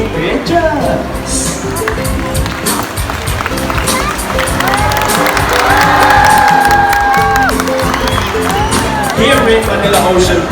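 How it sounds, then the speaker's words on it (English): A large audience at an ocean park sea lion and birds show applauds and cheers, a loud, dense wash of clapping and whoops sustained throughout, with an amplified voice and music-like tones running underneath. "A round of applause for our raptor, our chickens, and our homing pigeons."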